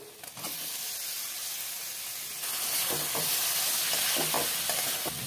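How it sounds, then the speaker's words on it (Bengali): Fried pointed gourd and potato sauté with tomato, green chilli paste and spices in a pan, a hissing sizzle that swells partway through, overlaid by a run of scraping stir strokes. "মশলার সাথে ভালো করে কষিয়ে নিতে হবে।"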